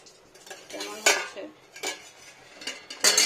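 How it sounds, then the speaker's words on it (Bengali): A metal lid comes off a cooking pot with clanging contacts, followed by several bright clinks and scrapes of metal on the pot. "এখনই ঢাকাটা খুলে"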